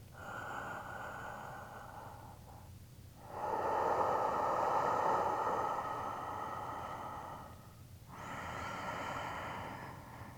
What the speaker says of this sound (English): And you hear me breathing, right? Just make your sound something like that.